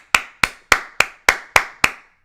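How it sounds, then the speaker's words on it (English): A single person claps seven times at an even, brisk pace, each sharp clap close and distinct with a short decay and no voices. "So we give Bill Belichick a round of applause"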